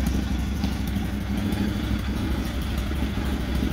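A custom 2005 Triumph Thruxton 900 cafe racer motorcycle engine runs steady and close, a loud continuous low rumble with no clear revving.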